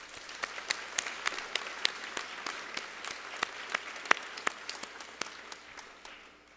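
Audience applause at a high school graduation ceremony: a thin, scattered patter of clapping with a few sharper individual claps standing out, steady and fairly faint throughout, with no talking.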